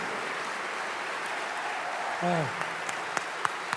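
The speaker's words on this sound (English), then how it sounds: "please give a very warm welcome today to the governor of the great state of California, Governor Jerry Brown" An audience claps steadily in a broad wash of applause welcoming the governor at an electric car customer delivery event, with a brief voice and a few sharper claps near the end.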